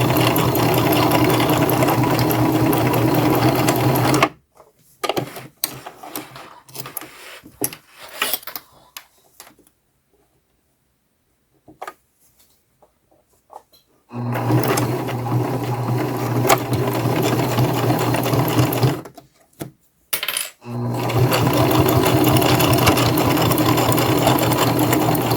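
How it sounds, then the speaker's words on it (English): A sewing machine stitches a 3/8-inch seam around a fabric zipper pouch, its rapid, close mechanical whirr running in long bursts separated by short pauses and near-silent gaps. "So off to the sewing machine to sew it around."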